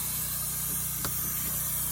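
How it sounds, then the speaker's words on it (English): Spray foam insulation being blown into the roof cavity of a log cabin under elevated rafters, a steady close hiss of the spray gun that holds constant throughout with a brief louder burst midway. "Now the insulation is being sprayed into the roof cavity."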